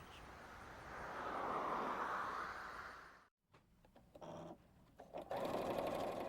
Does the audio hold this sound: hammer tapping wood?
no